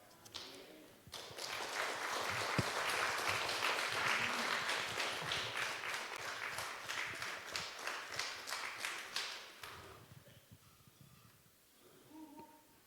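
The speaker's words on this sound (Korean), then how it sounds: "목사님께서 단상에 오르실 때 큰 박수 부탁드립니다." A church congregation applauding a pastor as he comes up to the pulpit, with dense clapping that swells quickly, holds strong, then thins into scattered claps before fading out, filling a large room.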